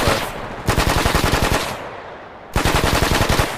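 Automatic gunfire from a military simulation video game firing in two loud rapid bursts separated by a brief lull, punchy and close with no voices.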